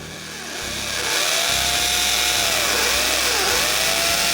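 Power drill boring a 3/8 inch hole into a block, whining loud and close as it spins up, its pitch rising and dipping under load.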